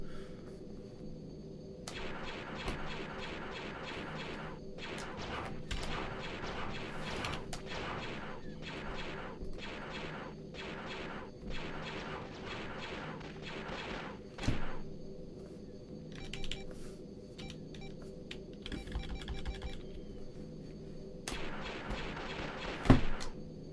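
Ion cannons fire from a starfighter in the Star Wars X-Wing video game: rapid bursts of sharp, buzzing electronic shots in uneven volleys, broken by short pauses and set over a low engine hum.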